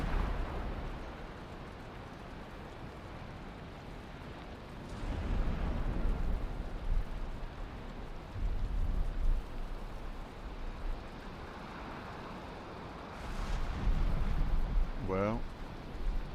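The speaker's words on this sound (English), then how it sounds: "the sound of lightning and thunder is certainly lightening up a little bit" Steady rain with rumbling thunder during a storm in a video game, a low continuous wash broken by several deeper rolling swells, with no voices.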